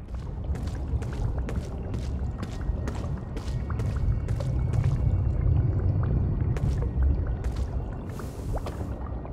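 Flowing, trickling water in the video game Ghostwire Tokyo, heard in an underworld area as a steady wash with light splashing, close and moderately loud, with no talking.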